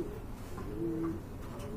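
Domestic pigeons coo softly in a crowded loft full of breeding pairs, a low throaty burbling close by with a faint background hum.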